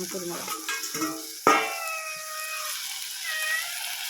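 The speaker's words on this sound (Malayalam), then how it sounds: "പൂച്ചക്ക് എന്തൊക്കെ വേണ്ടത്?" A cat meows in a home kitchen during Kerala-style cooking, with a sharp onset followed by a long, fading tonal call over soft background kitchen noise and faint stirring.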